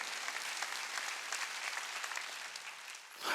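A congregation applauds during a Sunday church service at a Korean Jesus-centered church, a sustained wash of many hands clapping at even strength before it fades briefly near the end.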